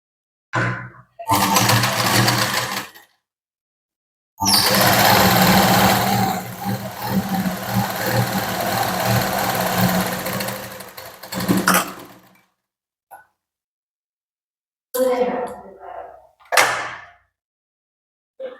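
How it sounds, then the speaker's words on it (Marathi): A sewing machine runs a fitting seam on a katori blouse in bursts: a short run, then a long steady whir of about seven seconds. Brief stops and a couple of quick final stitches follow, close and loud, with no voices. "एक दाबावरती आपल्याला एक फिटिंगची साईडनं व्यवस्थित एक शिलाई मारून घ्यायची आहे"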